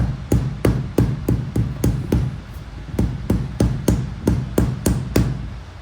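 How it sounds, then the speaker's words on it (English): A mallet tapping a grease cap onto the wheel hub of a 1965 Ford Mustang during a drum brake replacement, a close, steady run of about twenty sharp metallic knocks in a quick even rhythm, with no talk. "And then once it starts to go on, I'm just gonna take my mallet."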